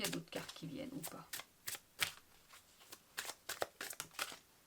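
Tarot cards shuffled in quick, uneven bursts of crisp riffling and flicking, close and fairly quiet, with a voice talking softly near the start.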